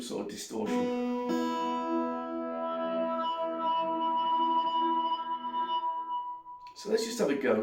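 A HyVibe acoustic guitar sounds through a distortion effect, sustaining a bright, heavily processed tone for several seconds, with short bursts of talk or a parrot at the start and end.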